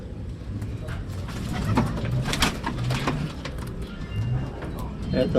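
Racing pigeons cooing in a loft, low soft coos repeating under steady background noise and people talking.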